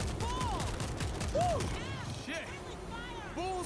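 Rapid bursts of gunfire ring out in the zombie shooter game World War Z, mixed with game effects and layered under the steady chatter of a player talking over the action.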